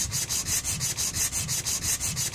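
An air file with 40-grit sandpaper works Bondo filler on the body of a 1995 Ford F250 extended cab, giving a steady, loud, rhythmic rasping buzz with regular back-and-forth strokes and no talking.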